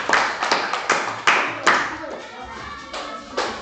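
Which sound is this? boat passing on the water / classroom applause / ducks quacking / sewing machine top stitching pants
classroom applause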